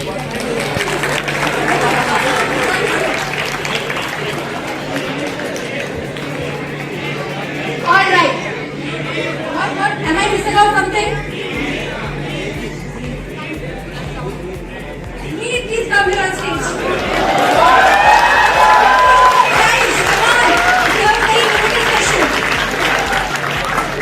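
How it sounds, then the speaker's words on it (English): An audience at a financial literacy session claps on and off amid lively chatter and voices, with bursts of clapping rising and fading and a louder swell toward the end. "Guys, please clap out."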